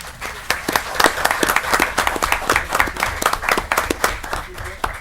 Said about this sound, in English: if you could give these guys a big round of applause